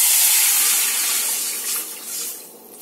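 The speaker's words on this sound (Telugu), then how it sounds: "ఇందులో వాటర్ పోసేద్దామండి." Water pours steadily into a cooking pan holding fried fenugreek seeds and asafoetida for tomato rasam, a continuous loud splashing rush that gradually softens toward the end.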